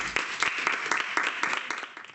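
Steady applause from a school audience at a primary public speaking contest, greeting a 5th-grade student speaker; dense overlapping claps fill the whole stretch without letting up, with no talk over them.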